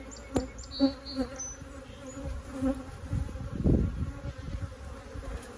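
Agitated honeybees hum and drone around a single brood chamber hive during a split, a continuous close buzz with individual bees whining past and occasional knocks of frames being handled.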